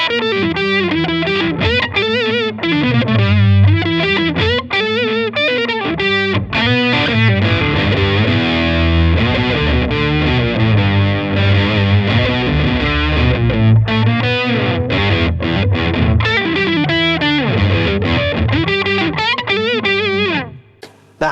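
An electric guitar runs through a POG octave pedal stacked with fuzz, giving a thick, distorted, doubled tone as a continuous riff with chords and single notes, loud and close for about twenty seconds with no talking.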